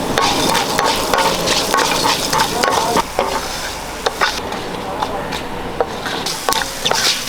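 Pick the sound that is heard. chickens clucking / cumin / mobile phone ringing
cumin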